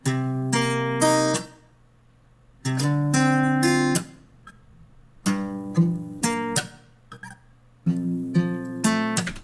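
A processed guitar melody plays in short phrased bursts with gaps between, tones shimmering and sustained, loud and close with no talking.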